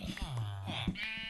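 Sheep on a sheep farm in the Minecraft video game give a couple of short, nasal bleats, close and clear, with a voice talking faintly alongside.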